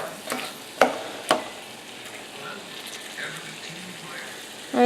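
Ground beef cooking in a pan for a Texas casserole while a utensil breaks it up, with a low steady sizzle, a few sharp scraping knocks and soft stirring sounds.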